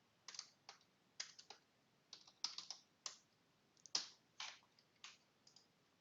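Quiet, irregular bursts of keystrokes on a computer keyboard while setting up a ServiceNow catalog variable, clustered taps with short pauses, close and alone without talk.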